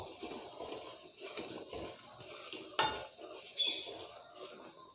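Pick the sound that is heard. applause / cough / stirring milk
stirring milk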